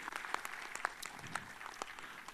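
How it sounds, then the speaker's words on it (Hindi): An audience at an Indian gathering gives an honoured guest a round of applause, quiet and somewhat distant, with scattered individual claps standing out from a soft continuous patter. "मैं चाहता हूं जरा जोरदार ताली उनके लिए बजाई जाए।"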